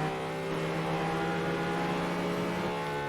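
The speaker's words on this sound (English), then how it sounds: "This is actually really loud, this car." A car engine in the racing game Test Drive Unlimited drones loud and steady while held in first gear at about 64 mph, its pitch staying nearly constant throughout with no talk.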